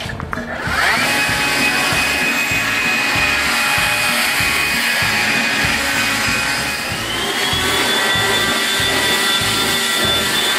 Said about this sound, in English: Use this pretty sick little 60-volt Taryl blower to pull this thing off.